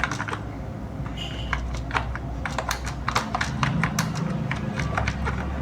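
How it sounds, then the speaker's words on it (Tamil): Fingers clatter quickly across a computer keyboard in irregular bursts of crisp clicks, close and fairly loud over a low steady hum, with no talking. "இப்போ நான் அந்த லொக்கேஷனையும் கரெக்டாக டைப் பண்ணிக்கிறேன் கூடவே."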